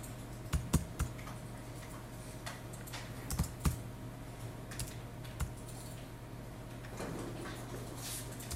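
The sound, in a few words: typing values on a computer keyboard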